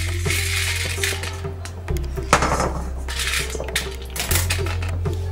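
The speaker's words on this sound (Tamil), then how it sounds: "நான் கடலைப்பருப்பு ஒரு தட்டில் எடுத்துறேன்." Roasted chana dal poured and scraped from a pan onto a plate, with metallic clinks and rattling of lentils over a steady low hum.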